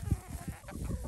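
Free-range chickens cluck softly close by in a short burst of low, irregular clucks over faint background hum.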